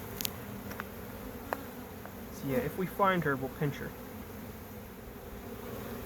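Honey bees buzzing steadily during an inspection of a hive after a newspaper combine, a constant close drone under someone speaking briefly in the middle.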